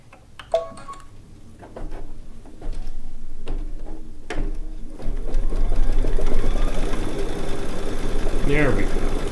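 A Baby Lock sewing machine stitches an edge-to-edge quilt, starting after a few clicks and then running in a fast, steady mechanical hum close by while a person talks.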